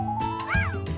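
A house cat gives a single close, clear meow with a rising and falling pitch against a steady background hum.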